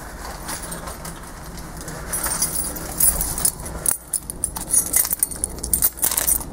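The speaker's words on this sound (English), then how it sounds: "If I can get the keys out of my pocket." Keys are pulled from a pocket and jangle close by, a light metallic jingling that starts soft and becomes busier and more irregular toward the end, with no talking.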